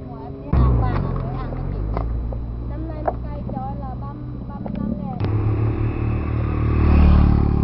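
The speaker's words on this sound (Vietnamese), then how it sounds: "xe máy đi hái đót của bà con chạy nườm nượp trên đường với đầy ắp thành quả mang về" Motorbikes loaded with harvested grass ride along a mountain road in Khanh Vinh district, engines rumbling and revving as they pass nearby, heard under a voice speaking throughout.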